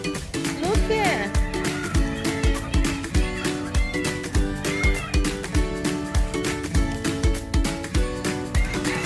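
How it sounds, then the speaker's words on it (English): A cat meows at a Florida petting zoo farm, with a few short mewing calls set against loud rhythmic music with a steady thumping beat. "Here, kitty."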